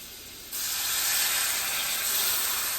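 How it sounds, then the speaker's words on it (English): A ribeye steak laid into a hot pan indoors: after a quiet half second, a loud, steady sizzling hiss starts at once and holds evenly, close up and with no talking. "now we're gonna take our steak and we're gonna place it right into the pan"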